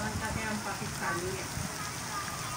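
Steady heavy rain in Pakistan hisses and patters throughout, a dense wash of drops with faint murmuring underneath.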